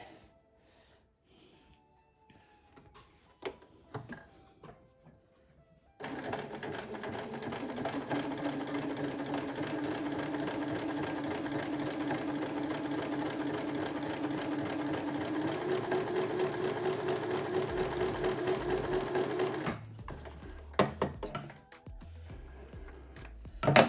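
A sewing machine stitching a decorative scallop-like pattern runs as a steady, close mechanical whir for about fourteen seconds, with scattered clicks and handling noises before and after.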